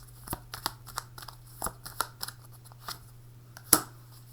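Tarot cards are drawn and shuffled by hand in a string of soft, close riffles, slides and flicks, with one sharper snap near the end, over a low steady hum.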